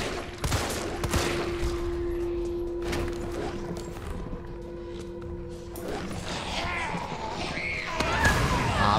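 Rapid gunfire from a horror game plays amid dense, rumbling game noise, with sustained bursts of shots, a steady droning tone and a louder crash near the end.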